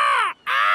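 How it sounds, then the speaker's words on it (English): Cartoon seagulls squawk in two loud, bright, harmonic calls close at hand, a short gap between them, eating raspberries in a garden by the beach, with no talking. "The cheeky seagulls are eating Grandpa's raspberries."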